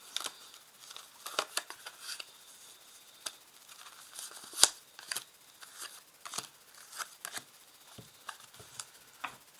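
Tarot cards laid out one by one on a table, a series of soft, close snaps, slides and shuffling flicks in an irregular rhythm, faint and otherwise quiet.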